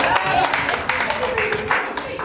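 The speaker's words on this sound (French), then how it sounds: "On peut applaudir une deuxième fois, Alexandra." Audience at an interactive theatre forum on Alzheimer's applauding again, a dense patter of claps at steady moderate loudness, with voices mixed in underneath.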